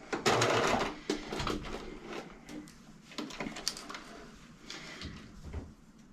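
A sewing machine stitches snap tape onto a doll bodysuit with quiet, close mechanical whirring in short bursts and clicks, easing off and restarting several times.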